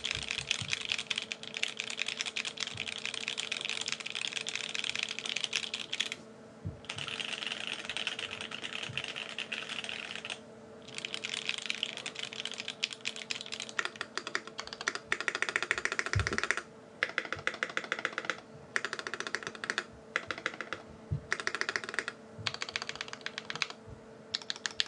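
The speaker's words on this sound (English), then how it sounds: "So here, just a quick typing test of mine." Rapid, steady keystrokes on a Volcano 660 66-key mechanical keyboard with Gateron Black Ink switches, a close, continuous clatter with a few brief pauses and no voices.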